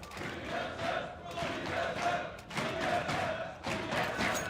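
Crowd at a live Counter-Strike esports match on de_cache at Copenhagen Games, Virtus.pro versus TSM, roaring and cheering loudly in sustained waves with thuds and shouts mixed through the din.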